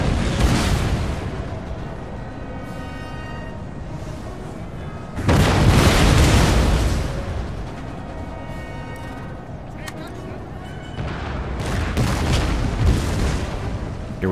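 Artillery cannons fire in Empire: Total War, with several deep booms spread across the stretch and one loud blast standing out in the middle, set against a steady battlefield background and a talking voice.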